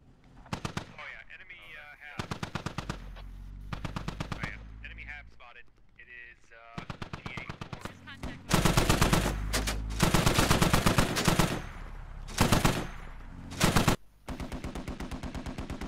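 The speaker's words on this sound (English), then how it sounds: "there's shots going out" Gunfire in the military shooter game Squad, with dense rapid bursts and heavy reports from nearby weapons firing at vehicles, loud and nearly continuous with brief gaps, under a speaking voice.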